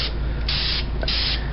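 Two hissing bursts of spray paint from a rattle can aimed at a bicycle frame, each lasting about a third of a second with a short pause between, close and steady.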